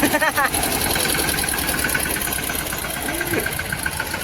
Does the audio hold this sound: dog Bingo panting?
no